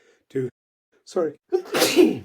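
A single sharp sneeze bursts out close by at the end, preceded by a few brief spoken words.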